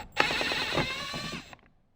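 A screwdriver backs a screw out of the grab handle on a Toyota Tundra door panel, giving close, rapid ratcheting clicks and a grinding scrape for over a second before falling quiet.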